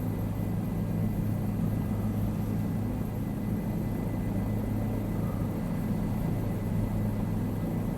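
Helicopter in Microsoft Flight Simulator 2024 on a scenic flight to Pangong Tso in Ladakh, India, giving a steady, heavy rotor and turbine rumble with a constant hum that holds even throughout.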